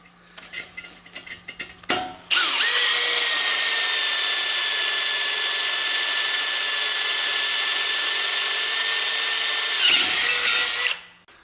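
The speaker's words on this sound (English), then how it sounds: "use a drop of cutting oil on your bit and drill your holes" Power drill boring holes in a hardened steel sprag insert for a Chrysler 518/618/46RE/47RE/48RE transmission, using cutting oil; after a few clicks, a loud, steady high-pitched whine runs about eight seconds, then stops abruptly.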